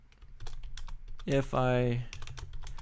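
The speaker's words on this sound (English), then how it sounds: "So if I were to just start typing here," Keys click rapidly on a computer keyboard in quick irregular taps, briefly interrupted by someone speaking before the typing resumes.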